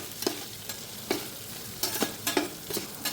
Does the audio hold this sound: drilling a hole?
no